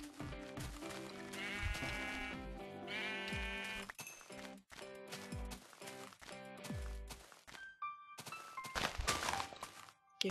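Sheep in a video game bleat while their wool is gathered, with several distinct bleats mixed with thunks and footsteps over a busy game soundscape.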